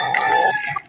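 A chicken clucks loudly and close by at a sturdy poultry feeder, a short burst of fowl calls with no talking.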